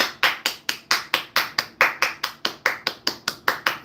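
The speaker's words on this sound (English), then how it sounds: "Let's give it a round of applause." Single person clapping hands steadily, about four claps per second, close and distinct with no other sound, roughly sixteen sharp claps in a row.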